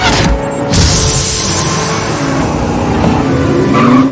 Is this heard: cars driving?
yes